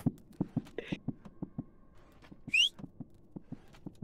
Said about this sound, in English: Sir, can you not whistle at it?